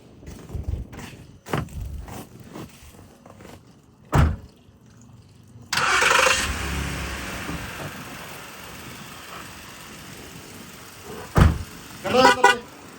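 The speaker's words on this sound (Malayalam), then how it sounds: "വണ്ടി സ്റ്റാർട്ടായി കേട്ടോ" A car engine fires up after a jump start from a small portable booster, following a few footsteps and door thuds, then settles into a steady running hum. More clunks come near the end.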